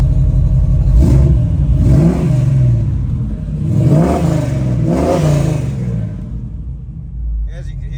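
A 1969 Chevrolet Camaro Z28 engine running close by, its deep rumbling idle broken by several sharp revs in quick succession before settling back down.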